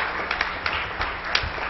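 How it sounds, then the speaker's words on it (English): A Pentecostal church congregation claps in praise during an evening service, a loose run of separate hand claps spread across a roomy, reverberant hall. "Give God a hand clap of praise tonight"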